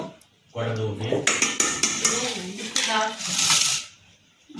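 A metal lid clatters onto a cooking pan of marinated chicken frying in hot oil, with several quick metallic clinks and scrapes close by.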